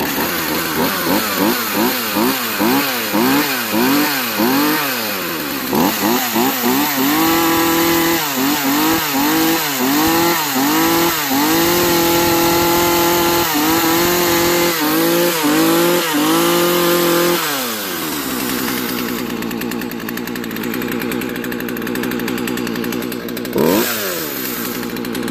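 A chainsaw engine revving up and down repeatedly with the chain spinning, loud and close, rising and falling whines that settle into a steady idle near the end.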